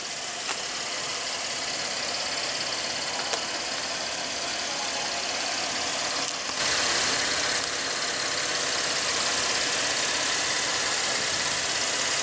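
A 2015 Cadillac SRX with a 3.6 L V6 idles steadily close up, a smooth even hum with a faint rhythmic tick that runs unbroken for the whole stretch, no voices over it.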